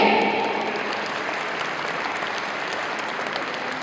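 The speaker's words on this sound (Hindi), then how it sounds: "तालियां रुकनी नहीं चाहिए" Applause from a school audience at an Independence Day celebration, a steady wash of many hands clapping that starts loudest and settles into an even, sustained level for several seconds with no voices standing out.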